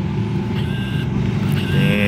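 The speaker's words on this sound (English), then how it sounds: "We got some more BMWs pulling in." BMW cars, including G80 and F90 M5 models, pull in at a Florida car meet, a steady nearby engine rumble with faint higher whines drifting over it.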